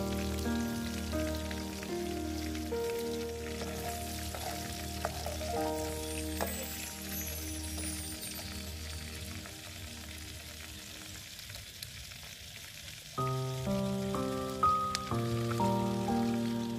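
Pork intestines fry in a pan with a steady, close crackling sizzle that runs throughout, while music plays in the background.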